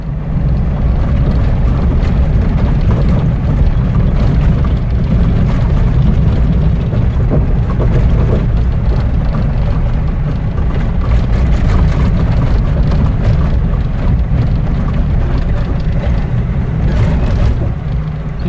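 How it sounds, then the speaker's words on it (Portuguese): Land Rover Defender heard from inside the cabin while driving on a dirt road: a loud, steady low rumble of engine and road noise with rattly texture, continuous throughout and no talk. "Vamos chegar na estrada de chão ali, ó, naquele trecho de chão, pra gente escutar o barulho do carro internamente."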